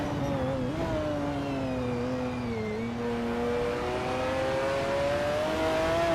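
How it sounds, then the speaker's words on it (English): 1999 Pagani Zonda C12 race car engine in a racing video game, a sustained loud engine tone that rises and falls slightly as it holds speed, with no talking. "Gina Jones is driving a 1999 Pagani Zonda C12"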